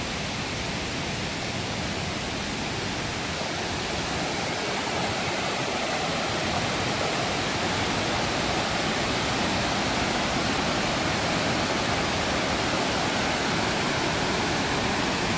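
A limestone mountain waterfall, Thi Lo Su in Thailand, roars in a dense, constant rush of falling water, loud and steady throughout with no voices.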